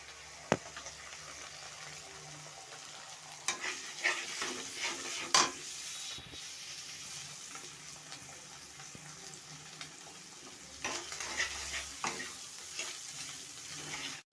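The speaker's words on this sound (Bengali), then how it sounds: "তো দেখো এখানে আমি ডিমটাকে ফাটিয়ে দিয়ে দিচ্ছি একেবারে ডিমটা আমি দিয়ে দিলাম" An egg frying in a pan for chow mein, a steady soft sizzle broken by scattered clicks and scrapes of stirring, close and moderately quiet.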